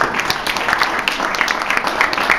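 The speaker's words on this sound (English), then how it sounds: "So give yourself a round of applause for that." A room of students at a university accounting society meeting gives sustained applause, many hands clapping at once in an even, close wash of sound.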